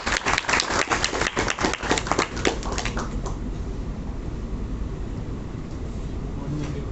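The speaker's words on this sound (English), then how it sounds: "Guys, clap." An audience at a tech innovation competition final claps in sharp, loud bursts for a few seconds, then the applause thins and fades into a steady room murmur.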